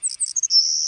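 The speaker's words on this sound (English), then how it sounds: "And birds like this savanna sparrow, they tend to have a buzzing type call." A savanna sparrow sings a short, high call: a few quick separate chirps that give way to a sustained buzzy trill, close and clear with nothing else behind it.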